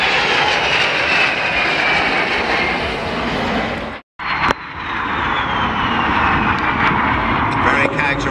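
Red Arrows jets passing overhead at an air display in Ayr, a broad roaring engine wash that swells and holds, with a brief cut in the middle, continuous and fairly loud.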